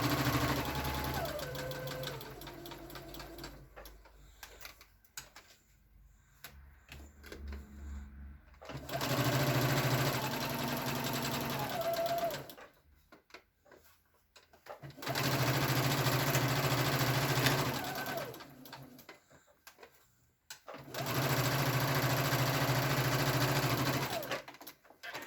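A sewing machine stitches a scant quarter-inch seam around the edges of a quilt block in three long steady bursts, loud and close, with short pauses between runs and no talk over it.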